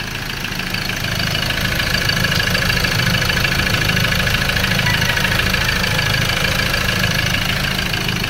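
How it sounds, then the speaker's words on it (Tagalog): A Ford Ranger 2.2 diesel engine with a manual gearbox, suffering heavy smoke and low power, idles loud and close with a harsh, continuous knocking rattle and a gritty grinding edge, a steady drone with no voices. "Kung napapansin nyo mga kalbularyo ay sobrang knocking, parang fuel knock kung pakinggan natin."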